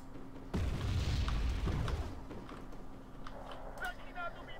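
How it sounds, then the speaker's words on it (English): Mortar fire in a video game: a heavy low boom erupts and rumbles for over a second, then fades into quieter battle noise with faint clicks, while a voice talks over it. "it's mortar fire."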